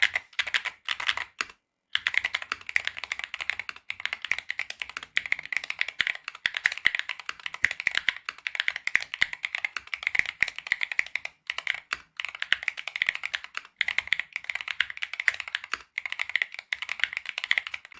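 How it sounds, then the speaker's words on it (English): Steady, rapid clacking of keys on a mechanical keyboard, close and crisp, continuing for a long stretch with a few brief pauses. "Let's listen to the final typing sound together."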